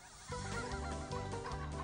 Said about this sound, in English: these birds are direct descendants of wild turkeys roaming America before Columbus